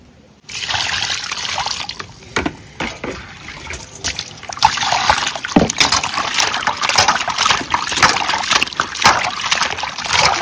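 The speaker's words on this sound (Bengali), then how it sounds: "এবার মাছ কাটা হয়ে গেছে, আর মাছটা ধুতে যাবো।" Water runs and splashes steadily over pieces of cut rohu fish as they are washed by hand, with irregular sloshing and trickling, close and continuous, no voices.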